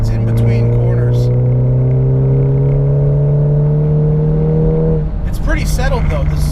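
A 400 HP Stage 3 VW Mk7 GTI at speed on a track, its engine droning loud and steady close up before dropping off near the end, with a person talking over it.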